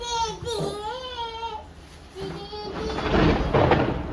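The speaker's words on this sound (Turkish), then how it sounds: "Şimşek yakınımıza düştü." Thunder from a nearby lightning strike swells into a loud, broad rumble that builds over the last two seconds, following a stretch of a young child crying and whimpering close to the microphone.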